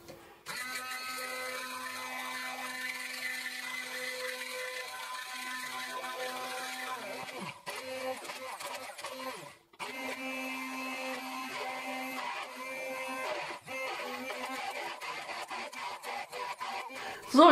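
Immersion blender whirring steadily as melted butter is slowly worked into hollandaise sauce, a loud continuous motor drone with pitch shifts and brief dips as the blender is lifted and moved.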